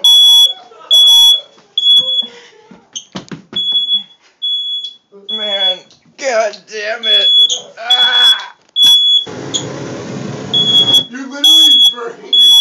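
Smoke alarm set off by someone torching spiders with a flame, giving loud, repeated high beeps at a steady interval while people talk and swear close by and a whooshing burst cuts in.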